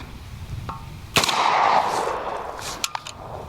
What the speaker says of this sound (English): Let's just shoot it, see if we blow our gun up.